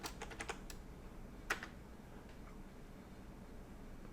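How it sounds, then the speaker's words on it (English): Keys tapped on a computer keyboard, quiet and close, with a quick burst of clicks at the start, one sharper keystroke, then sparse taps over a soft background hum. "I'm going to type in my name, the course,"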